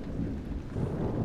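Steady rain with a low rumble of thunder fills the horror video game Amnesia, a continuous dense wash with no voices.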